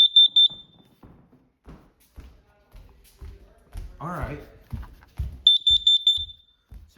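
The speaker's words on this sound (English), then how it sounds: "testing, smoke, and carbon alarms" Smoke and carbon monoxide alarms being tested give short bursts of loud, shrill rapid beeps at the start and end, with a person talking and handling noises in between.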